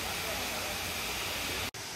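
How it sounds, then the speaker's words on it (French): Erawan waterfall's fourth cascade in Thailand, a steady loud roar of falling water that fills the whole clip, with a momentary dropout near the end. "Voici la quatrième cascade, très jolie aussi"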